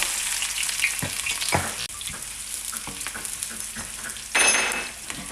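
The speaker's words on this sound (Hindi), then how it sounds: "अब हम जो प्याज है उसको ब्राउन होने तक फ्राई करेंगे" Onions frying in oil on a hot tawa, a steady close sizzle with scraping stir strokes at intervals and a louder burst of hissing near the end.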